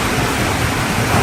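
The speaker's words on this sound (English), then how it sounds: "I have to wait for the rain to die down a little." Heavy rain pours down during a storm as a steady, loud, dense hiss with no pauses and no voices.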